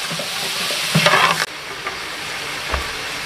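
Onions and chopped vegetables frying in a pot for goat biryani, a steady close sizzle with a louder burst of stirring and clatter near the middle, then a quieter hiss and one soft knock, no talking.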